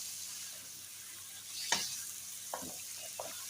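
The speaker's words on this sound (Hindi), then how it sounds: "चम्मच चलाते रहेंगे इसमें।" Bone-in chicken with spices stir-fried in a pan, a soft steady sizzle underneath with a few distinct spoon scrapes and clinks standing out toward the end.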